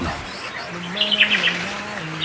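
Birds call and chirp outdoors in hot weather, a few clear tweets and warbling notes standing out over soft background ambience.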